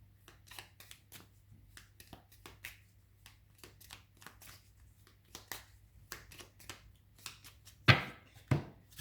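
Tarot cards shuffled and laid out in quiet, close, crisp bursts of soft flicks and taps, ending with two sharper snaps as cards land on the table.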